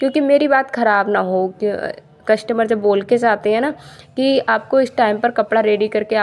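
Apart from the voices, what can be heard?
None of the usual background noises is heard.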